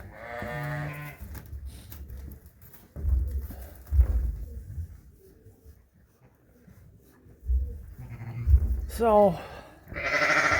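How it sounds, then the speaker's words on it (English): A lamb bleats in a pen with hay on the floor, one cry at the start and more near the end, close by, with someone speaking softly in between. "Yeah, who's crying here?"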